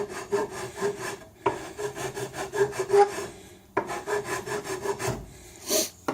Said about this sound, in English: I use just a file and just gently go over it in different directions to create a little bit of a texture there.